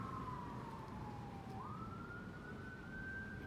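An emergency vehicle siren wails in a steady, slowly rising and falling tone, heard at a distance over constant low traffic noise.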